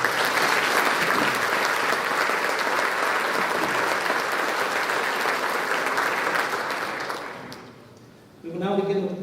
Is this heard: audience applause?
yes